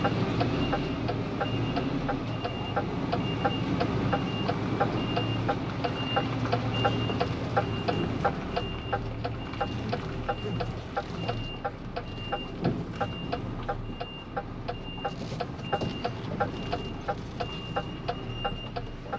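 A UK car transporter truck reverses into a side road, its reversing alarm beeping steadily in a regular rhythm over a loud, continuous diesel engine rumble, with no talk.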